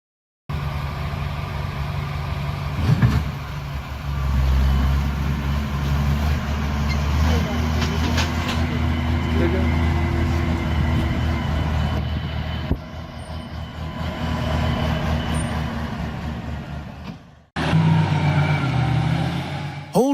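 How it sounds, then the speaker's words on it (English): A Komatsu wheel loader lifting a giant log at a logging site drones with a heavy, continuous engine rumble that rises and dips, briefly cutting out near the end, as someone talks over it. "This Komatsu wheel loader is a true monster."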